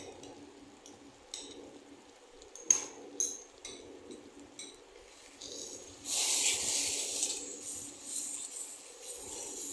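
Ground masala paste sizzling loudly in a hot pan as it is sautéed for prawns masala. A few metallic clinks from stirring come first, then a sustained hiss rises midway and continues steadily to the end.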